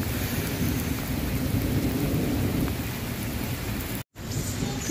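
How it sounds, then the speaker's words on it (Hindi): Heavy, steady rain pours down at 2 a.m. with a deep rumble of thunder underneath, broken by a brief moment of silence near the end. "देखें जी किस तरह से बारिश हो रही है फुल टाइम"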